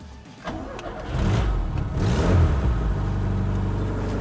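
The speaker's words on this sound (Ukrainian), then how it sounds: "Саме головне, автомобіль, до речі, завівся." A Ford Otosan farm truck engine turns over and catches, then builds into a loud, steady running rumble that holds to the end.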